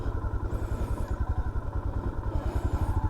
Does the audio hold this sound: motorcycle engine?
yes